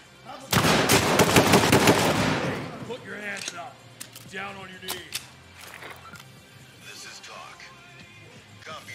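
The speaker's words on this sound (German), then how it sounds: "Ey, der hat doch auf uns geschossen!" A dense, loud burst of rapid automatic gunfire from an enemy in the video game Ready Or Not, lasting about two seconds, then fading as excited voices talk over sparse scattered sounds.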